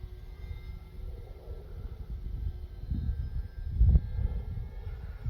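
A radio-controlled Arrows RC Skycruiser model airplane drones steadily at a distance, its engine hum blending with low wind rumble and a brief louder gust midway.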